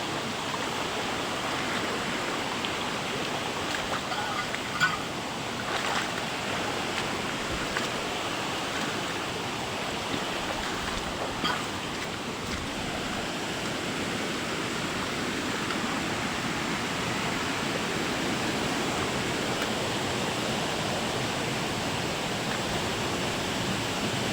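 Twin Falls at Bumbungan Falls pours in a steady, broad roar heard from nearby, constant throughout with a few faint knocks and no voices.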